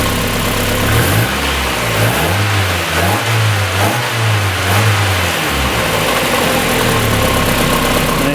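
A 1990-1997 Mazda Miata engine near operating temperature idles loudly and close by, with a steady mid-pitched hum, and the idle speed swells and dips in the middle before settling.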